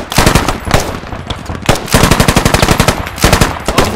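An M240B machine gun fired in the video game Squad, loud close rapid bursts of automatic fire separated by short pauses, one long sustained burst in the middle.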